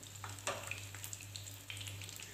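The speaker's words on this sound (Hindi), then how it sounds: "आप डालें और इनको कर लें फ्राई" Potato kababs sizzle steadily in a pan of oil, with faint crackles and pops scattered through a continuous soft hiss; no one speaks.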